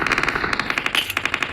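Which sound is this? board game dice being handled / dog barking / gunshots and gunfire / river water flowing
gunshots and gunfire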